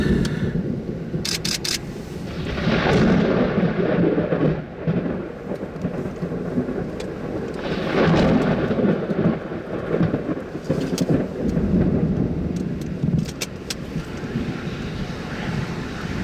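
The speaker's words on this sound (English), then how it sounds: "Ears are ringing from the thunder." Deep thunder from a rain-wrapped storm rolls and rumbles for a long stretch, swelling and fading in heavy waves, with wind buffeting the microphone and a few sharp clicks.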